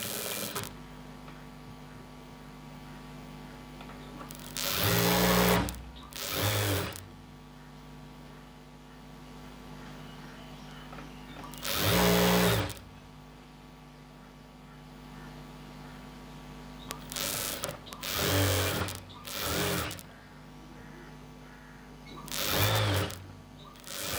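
A sewing machine stitches a churidar pant in a tailoring shop, running in several short bursts separated by pauses over a steady low hum.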